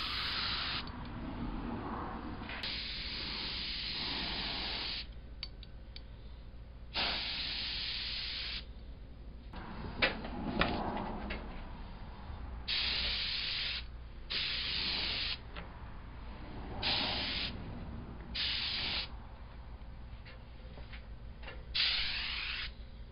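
Spray paint hisses onto a Lionel 164 log loader part in a string of short and longer bursts separated by pauses, each a soft, close, airy spray.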